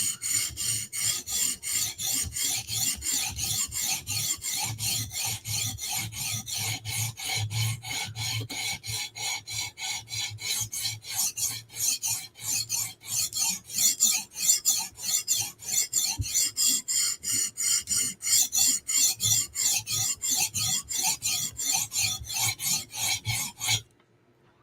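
A steel blade edge is stroked back and forth across a sharpening stone in quick, even rasping passes, close and continuous for about twenty seconds before stopping abruptly.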